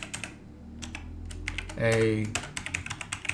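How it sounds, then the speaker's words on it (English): Computer keyboard typing heard close up as a run of quick uneven clicks, with a brief tonal voice-like sound in the middle. "I'm going to type in a"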